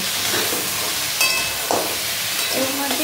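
Crabs frying in a pan of hot oil for a crab curry give off a steady sizzle, with a few brief scraping stirs across about three seconds. No one speaks.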